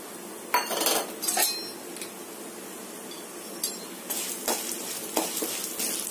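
Urad dal frying in hot sesame oil while a spoon stirs it in a pan for a Tamil veld grape chutney, a steady soft sizzle broken by several sharp scrapes and clinks of the spoon against the pan.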